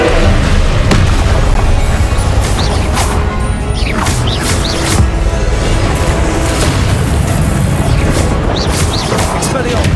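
Incendio fire spell cast in the Hogwarts Legacy video game during a combat duel, a loud continuous roar of bursting, crackling magical blasts and crashes amid dense game effects, with chanted spell calls mixed in.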